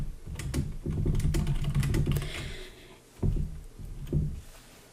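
Typing code on a computer keyboard: quick clusters of close, crisp key clicks in two bursts separated by a short pause.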